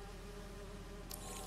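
Bees hum in Spider-Man 2, a continuous droning buzz that holds steady throughout at a moderate, close level, with no talking over it.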